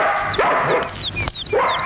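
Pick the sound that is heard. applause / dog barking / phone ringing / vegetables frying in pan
dog barking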